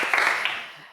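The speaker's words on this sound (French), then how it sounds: "on applaudit Claude, s'il vous plaît." A French TV quiz show audience gives a contestant a short burst of applause, brief and fading quickly after a few clustered claps.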